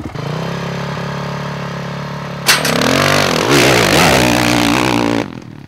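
A motocross bike at the start line idles with a steady, close engine note, then snaps into a sharp rev and runs at higher, wavering revs before abruptly cutting off.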